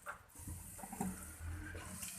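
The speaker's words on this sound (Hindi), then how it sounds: "अब हल्का सा ऐसे हम भून लेंगे मसाले को और इसमें पानी का छींटा लगाएंगे ताकि मसाले हमारे जले ना" Water splashed into spices frying in a cooking pan for a runner bean curry, giving a brief soft hiss and sizzle that is faint and close.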